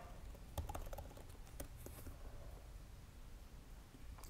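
Quiet keystrokes on a computer keyboard come in short scattered bursts of clicks and taps, faint and close, with no voice over them.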